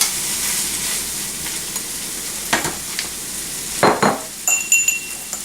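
Tomatoes and spinach stirred in a hot pan, a steady sizzle with the soft scrape of a utensil and a few sharp metallic clinks near the end.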